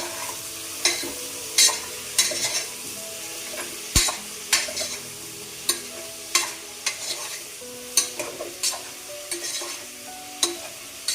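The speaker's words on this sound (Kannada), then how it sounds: "ಅದಕ್ಕೆ ಮಶ್ರೂಮ್ ಹಾಕೋತಾ ಇದ್ದೀನಿ" Mushrooms are stir-fried in masala in a pan for biryani, with soft sizzling under repeated sharp scrapes and clacks of a spatula against the pan, fairly close and moderately quiet, with no talk.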